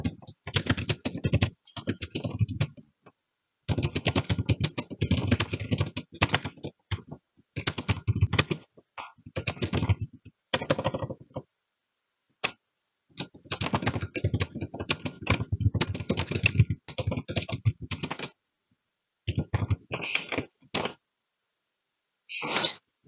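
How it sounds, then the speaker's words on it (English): Keys clatter in rapid bursts of typing, separated by short pauses, close and clear with no talking. "my typing is not perfect"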